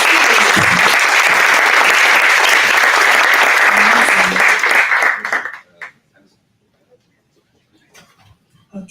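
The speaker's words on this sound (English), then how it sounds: "Huge round of applause." Startup demo night audience giving a loud, dense round of applause that holds steady for several seconds, then quickly fades to near silence with a few scattered claps and faint room noise.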